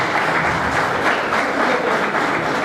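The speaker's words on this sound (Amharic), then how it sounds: "ሞቅ ያለች ጭብጨባ" An audience at an Ethiopian public event breaks into warm applause, a dense, steady wash of many hands clapping together that stays loud throughout.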